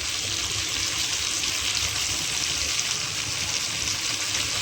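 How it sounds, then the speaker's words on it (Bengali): Pieces of pointed gourd fry in hot oil, giving a steady, even, close hiss that runs unbroken with no voices over it. "একটু ভাজা হতে থাক।"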